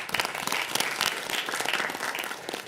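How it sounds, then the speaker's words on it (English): An audience at a public education board meeting applauds steadily, a dense patter of many hands clapping at moderate volume for a few seconds with no talk over it. "So if you'll join me in giving them a big round of applause"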